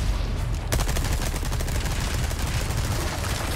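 Dense gunfire from the Resident Evil 4 Remake game, a loud, continuous barrage of rapid shots that breaks out after a brief moment and rattles on without pause, with no talking.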